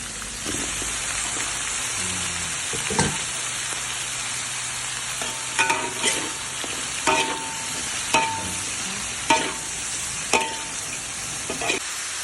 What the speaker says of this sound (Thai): เราทอดให้สุกเลยนะครับ เอาบล็อกโคลี่ใส่ลงไปเลยนะครับ